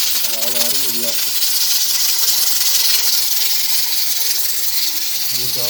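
Steady, loud hiss of steam escaping under pressure from a pressure cooker whistle cooking lentils fills the whole stretch, with brief voices talking faintly in the background at the start and end.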